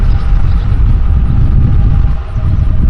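Loud pickup truck passing close on a small-town street in Vanceburg, Kentucky, a heavy rumbling engine roar that stays strong and steady throughout with no talk over it.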